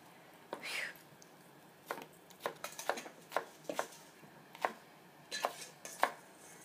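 A knife chops onions on a cutting board in a series of sharp chops, irregular at first then steadier, close up, with faint breathy sounds between.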